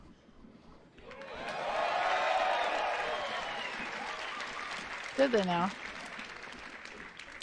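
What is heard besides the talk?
crowd applause at Bethesda E3 conference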